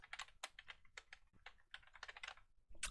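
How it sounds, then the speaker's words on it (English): Close, quick keystrokes on a computer keyboard come in irregular bursts with short pauses, clicking steadily with no talking. "And then there was typing."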